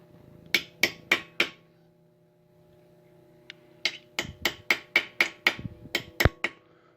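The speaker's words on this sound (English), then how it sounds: "Step two is to center punch the center as best you can." A hammer strikes a center punch on the metal rear steering bracket of a 1960 Johnson 10 outboard with a broken pin: four sharp ringing taps, a pause, then a faster run of about nine, close and alone.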